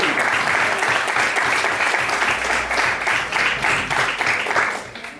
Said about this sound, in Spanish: si quieren aplaudir, aplaudir